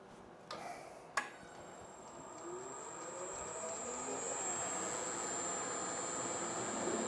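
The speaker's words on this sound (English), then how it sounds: "Put our little center drill through first." A small center drill bores into metal for a 1963 Porsche 904 suspension part. Two sharp clicks are followed by a faint, steady motor whine with a high, thin tone that slowly builds.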